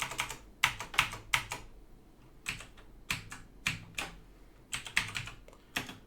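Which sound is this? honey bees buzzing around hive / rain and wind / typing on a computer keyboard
typing on a computer keyboard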